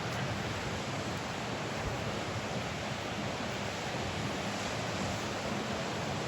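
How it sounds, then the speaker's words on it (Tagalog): Sea waves wash onto the shore in a steady, even rush of surf, with a continuous hiss and no distinct breaks, moderately loud and with no voices. "Basta dagat."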